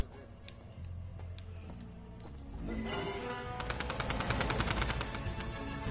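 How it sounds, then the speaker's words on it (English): Rapid gunfire from a video game played on PS4, starting midway and continuing as a dense, steady rattle over a constant background of game ambience, moderately loud. "Someone's shooting somewhere."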